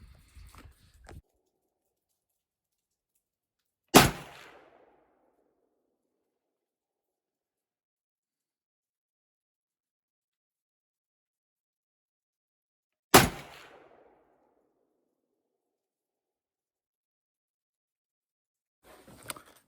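Two loud, sharp 300 Blackout rifle shots fired outdoors, each a single crack with a short decaying tail, spaced about nine seconds apart with quiet between and faint handling noises at the start and end.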